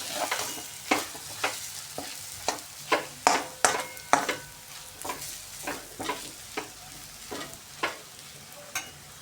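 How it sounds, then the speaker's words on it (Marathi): Mung dal stirred and fried in oil in a pan, with a steady soft sizzle and regular scraping strokes of the spoon roughly every half second, close and clear. "छान अशी मोकळी होईपर्यंत आपण डाळ परतवून घेणार आहे."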